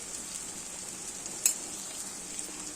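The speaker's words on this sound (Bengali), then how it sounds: "পেঁয়াজটাকে কিছুক্ষণ নাড়াচাড়া করে নিয়ে এর মধ্যে আমি দিয়ে দিচ্ছি টমেটো কুচি" Onions with chopped tomato sautéing in a pan, a faint steady hiss of frying with one sharp clink of a utensil near the middle and a lighter tap later.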